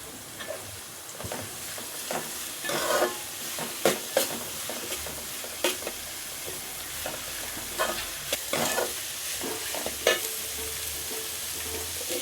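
Chopped onions frying in a pan, a continuous sizzle broken by repeated scraping stirs and clinks of a spatula at an irregular rhythm, close and fairly loud.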